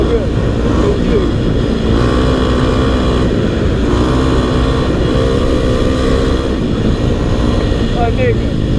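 A loud, continuous, close engine roar from a dirt bike, either a 2022 Kawasaki KLX 300R or a 2009 KTM 450SXF, rumbling steadily throughout with voices mixed into the noise.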